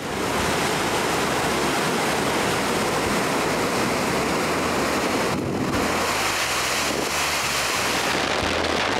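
Water pours over a small lake dam beside a cottage in winter, a dense, continuous rushing roar heard close and loud without pause, with no voices.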